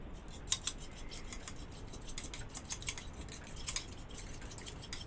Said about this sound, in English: Mix that egg up.